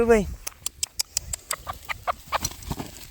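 A hen laying an egg clucks repeatedly in short, sharp bursts, starting with a drawn-out squawk and then settling into a steady rhythm of close, loud clucks.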